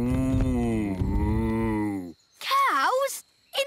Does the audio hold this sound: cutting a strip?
no